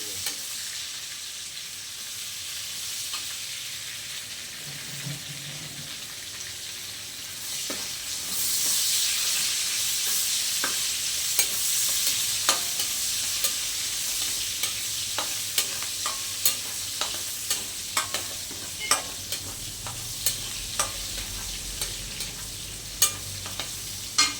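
Ingredients for ginataang hipon frying in hot oil in a pan, a steady close sizzle that swells louder partway through, broken by sharp clicks and taps of stirring, with no talk.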